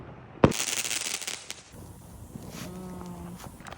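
A single firework set off close by, one sharp loud bang followed by a fizzing hiss and crackle that fades, with a faint whistling tone near the end.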